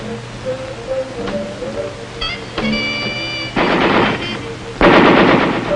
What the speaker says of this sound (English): We spent a lot of time on the machine gun range with the M60.